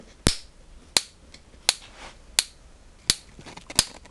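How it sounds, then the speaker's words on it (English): Sharp electric spark snaps from a homemade water spark plug, six crisp cracks spaced roughly every two-thirds of a second, each a loud isolated click over a faint background hum. "So there you are again, the normal spark."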